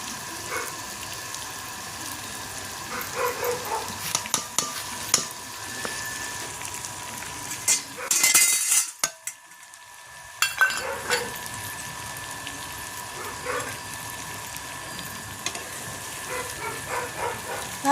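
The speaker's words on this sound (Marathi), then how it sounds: "आता मिरच्या तळून घेते. मसाला टाकलाय." Bell peppers fry with spice masala in a pan, giving a steady, soft sizzle that briefly drops away near the middle before resuming, with faint clatter alongside.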